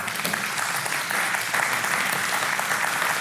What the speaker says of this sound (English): Go ahead, clap for that.